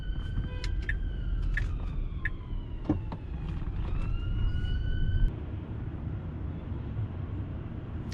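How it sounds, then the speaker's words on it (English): An ambulance siren wails from behind a moving car on the road, its wavering tones rising and falling at moderate distance over steady low road rumble, cutting off partway through. "the ambulance is now behind us again"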